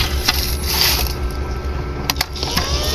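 A dirty, worn cooling blower fan inside an old no-brand inverter under repair whirs noisily with a steady hum, joined by scattered clicks and rattles, close up and with no voices.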